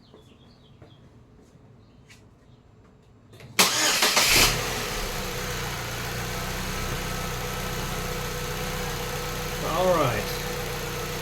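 A Saab 9-3 2.0T with a misfire cranks and catches with a sudden loud burst, then settles into a steady, slightly uneven idle. Someone speaks briefly before it starts.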